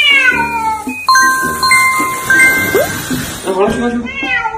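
A cat meows and caterwauls repeatedly while being bathed, with loud, drawn-out, wavering cries close by, and a person speaks over and between the calls.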